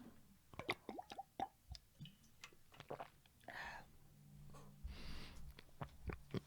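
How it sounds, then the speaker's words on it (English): Someone takes a sip of water, heard as faint close-up wet clicks, small swallowing noises and soft breaths spread across a few quiet seconds. "I'm going to take a sip of water here."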